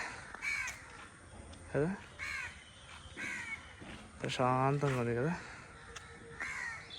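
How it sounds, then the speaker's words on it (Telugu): Crows caw repeatedly at a resort in Araku Valley, with several loud, close calls spread across the clip, some drawn out, while a person talks over and between them. "కాకుల సౌండ్ పిచ్చుకల సౌండ్ చూసారా"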